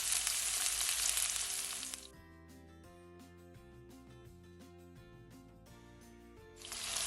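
Onions hitting a hot frying pan for a soul food smothered chicken, loud hissing sizzle at the start and again at the end, with a quieter stretch of tonal music playing in between.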